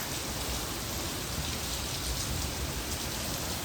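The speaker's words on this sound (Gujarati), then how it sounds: "બાકી વરસાદ ચાલુ છે" Steady rain falls in a dense, even hiss, drumming on surfaces without pause or voices.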